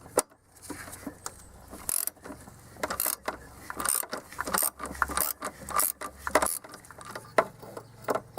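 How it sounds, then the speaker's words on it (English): Ratchet driving an 18mm socket on a Land Rover Discovery 2 TD5 engine mounting, giving a run of sharp mechanical clicks and ratcheting bursts at close range, uneven in rhythm, with no talk. "And now I can use the ratchet on it."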